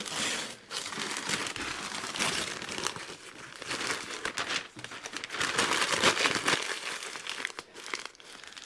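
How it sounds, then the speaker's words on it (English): Cheap masking tape being peeled and crumpled off a chrome part on a 1940 Mercury; continuous close crinkling and tearing rustle throughout, loud and unbroken. "let's unmask our action and take a look. Hopefully this cheap tape comes off without wrecking everything."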